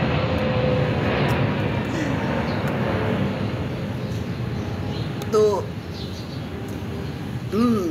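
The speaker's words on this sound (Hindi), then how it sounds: "तीसरा जहाज़ इस वक्त तकरीबन आ रहा है और बहुत ही खूबसूरत जहाज़ है, बहुत बड़ा जहाज़ है।" A large airplane passing overhead, a steady broad engine rumble that fills the whole clip under someone talking.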